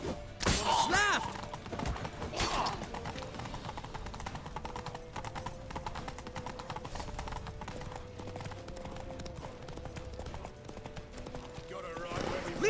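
Horse hooves clip-clop at a steady gallop across a Witcher 3 battlefield, loud and close throughout, with shouting men and battle noise layered over them.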